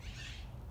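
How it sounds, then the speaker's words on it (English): Birds call outdoors during a break in an arm workout, including a hooting, owl-like call over steady low rumble, faint and continuous through the short moment. "There's birds everywhere."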